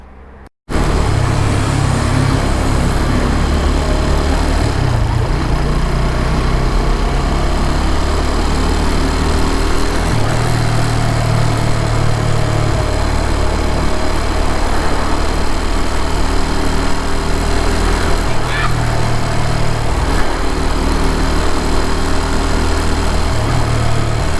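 A 125 cc motorcycle engine while riding on a road trip through southern Poland, a steady loud droning hum with subtle shifts in pitch, continuous for the whole stretch with no talking.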